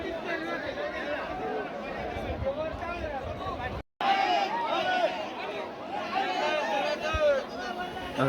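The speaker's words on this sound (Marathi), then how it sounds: "इकडे पण खूप गर्दी आहे" Dense crowd chatter fills the air at a Bhairavnath temple kalash installation festival in Bharvir Khurd, a steady murmur of many voices, near and loud, broken by a brief silent gap midway.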